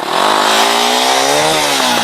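The engine of an Exdrive Tracker 250 motorcycle revs up loud and close, a steady buzzing drone climbing smoothly in pitch as the bike accelerates through the gear.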